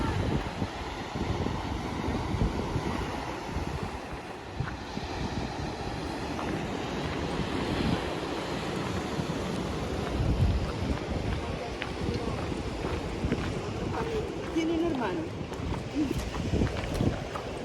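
Steady wind buffets the microphone with a low rumbling roar, continuous throughout, with faint distant sounds underneath.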